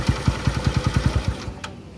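Honda CB motorcycle engine runs with a steady, pulsing idle of about a dozen rhythmic thumps, then cuts off and falls quiet, loud and close with no talking.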